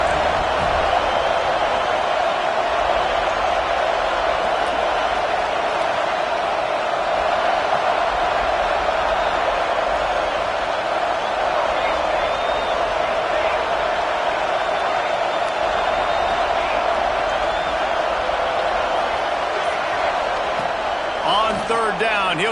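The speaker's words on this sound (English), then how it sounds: "how nice is it to have the home crowd going absolutely bananas" A home stadium crowd roars steadily and loudly throughout a college football game between FSU and NC State, a dense continuous wall of cheering with commentators talking over it.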